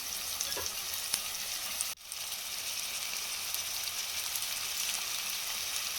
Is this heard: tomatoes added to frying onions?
yes